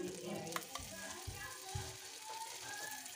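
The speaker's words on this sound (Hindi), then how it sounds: "अब इसे अच्छी तरीके से सिकने देंगे।" Bread slices toast in a pan with butter, giving a soft, quiet sizzle with a few light scraping and tapping sounds nearby and faint background voices.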